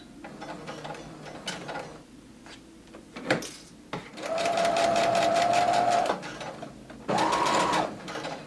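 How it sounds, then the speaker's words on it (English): Sewing machine stitching a skirt pocket seam, starting with short back-stitch runs and then a steady, loud whirring run with brief stops, close up with no talking. "Begin sewing and back stitch."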